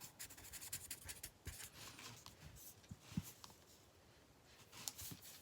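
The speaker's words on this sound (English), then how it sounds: "I'm going to quick write the names down" A pen scratches names onto paper in short, quiet, irregular strokes with pauses between them, close and faint, with no speech.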